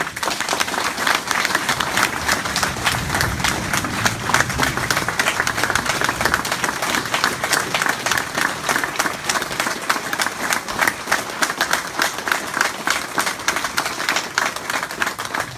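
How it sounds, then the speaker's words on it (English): An audience at a baseball field memorial dedication applauds, dense sustained clapping from a crowd that holds steady across the whole stretch, with no voices standing out. "please join me in giving them a huge round of applause"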